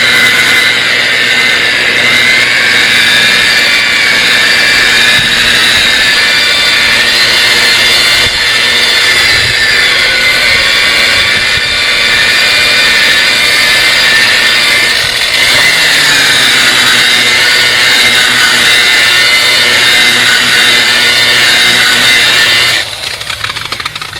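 A DeWalt polisher runs steadily on a car's painted panel, its loud, even motor whine holding one pitch throughout before a slight change near the end.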